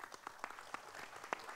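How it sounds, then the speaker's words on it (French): Scattered applause from a small audience at an economic forum, a handful of separate claps standing out over a low murmur, faint and fairly distant. "On peut l'applaudir."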